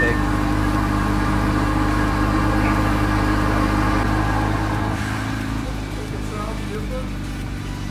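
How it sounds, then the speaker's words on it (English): A car fitted with a new AEM cold air intake idles steadily with a low, deep engine hum, close to the microphone, easing slightly quieter near the end. "I can hear that intake."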